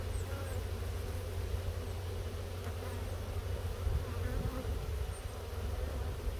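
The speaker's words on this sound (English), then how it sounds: "All right, so quarter cup of bees." Honey bees drone in a steady, continuous buzz close by during a sugar roll mite count from a hive being readied for winter, with no talking over it.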